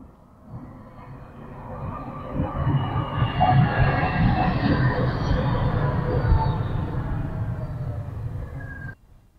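A tram in Rostock rumbles past steadily for several seconds, a broad mechanical roar that swells and then cuts off abruptly.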